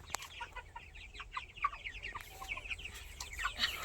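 Chickens on a small backyard poultry farm give repeated soft clucks and chirps close by. The calls keep up throughout, with no talk.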